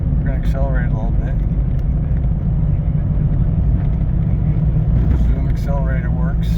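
A 1998 Jeep Cherokee XJ accelerates from around 40 mph, with a steady low engine and road drone held at constant loudness. Voices talk over it at intervals.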